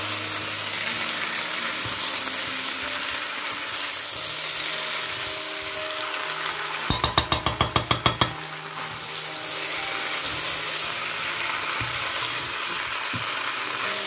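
Green beans and onions frying in a pan for Cameroonian poulet DG, a steady close sizzle with a few soft stirring knocks and a short burst of rapid rattling taps midway.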